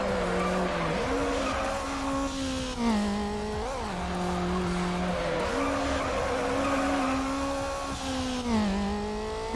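Mazda Miata engine revving hard in Need for Speed Underground, a loud continuous engine whine that climbs and drops with gear shifts, mixed with tire squeal and skidding, no voices.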